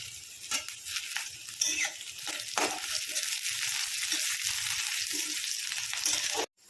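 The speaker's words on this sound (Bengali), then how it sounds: "পেঁয়াজের রঙটা অল্প গোল্ডেন হওয়া অবধি একটু ভেজে নেব।" Onion and curry leaves fry in oil for Odisha-style dahi baingan, a continuous close crackling sizzle with occasional stirring scrapes, ending abruptly.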